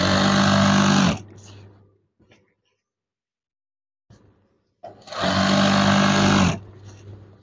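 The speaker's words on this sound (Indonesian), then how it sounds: "Jahit saja hingga akhir." A sewing machine stitches fabric for an eyelet curtain in two loud, close bursts of rapid whirring, separated by a few seconds of near silence and faint handling.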